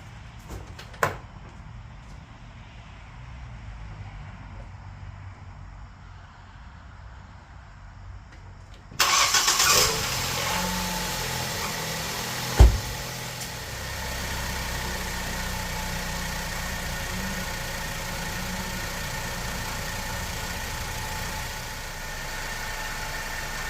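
A 2012 Ford Focus engine cranks and catches, then settles into a steady, moderately loud idle after a quiet stretch, with a brief knock partway through.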